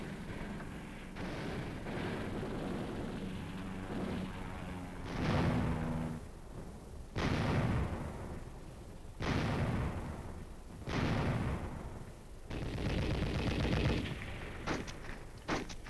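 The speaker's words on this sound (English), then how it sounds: "Again and again, the aircraft came in to hit with bombs," Aircraft bombs, machine-gun fire and rockets strike hillsides in a Korean War battle, a series of heavy, rumbling blasts and bursts of gunfire arriving every two seconds or so, loud and layered over a constant din.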